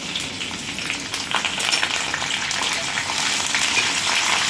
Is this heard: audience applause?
no